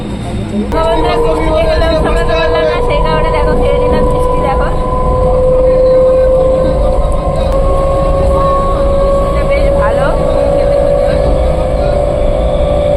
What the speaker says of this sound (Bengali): ফাইনালি ট্রেনটা থামলো